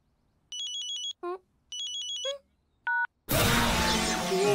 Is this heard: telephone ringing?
yes